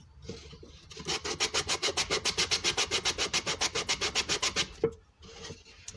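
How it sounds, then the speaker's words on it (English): Hand file rasping along the edge of a wooden box, a steady run of about twenty rhythmic back-and-forth strokes, close and clear, then stopping with a brief knock and quiet. "let me just file this edge"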